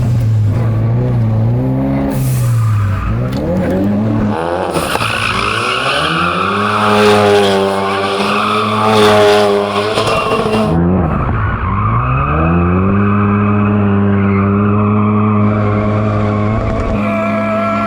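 A race car accelerating hard with loud squealing, skidding tires over a rising, revving engine note that climbs, dips and pulls again, close and continuous.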